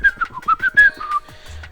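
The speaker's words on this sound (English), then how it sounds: "Whistles." A person whistles a short, melodic tune of several quick, pitched notes with small pauses between phrases, close and clear with no talking.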